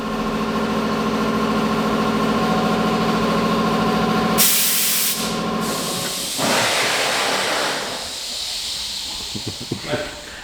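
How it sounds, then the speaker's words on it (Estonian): An air compressor runs steadily with a droning motor hum, then a loud burst of hissing air cuts in and fades, followed by quieter clatter and rumble near a Nissan 350Z being prepared for winter. "nägite siin vahepeal kompressori häält"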